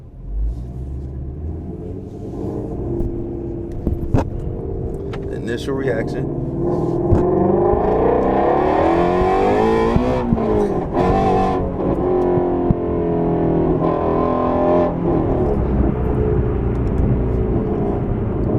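Ford Mustang GT350 V8 exhaust fitted with a Corsa X-pipe resonator delete, accelerating hard from inside the car: a loud, rising rumble that builds and holds for several seconds, with someone talking briefly over it.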